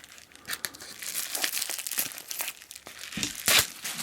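Plastic bag crinkled and rustled as a Super Jubilee watch bracelet for a Seiko SKX007/SKX009 is pulled out, a run of close crackling and crumpling bursts with a sharper tearing-like rustle near the end.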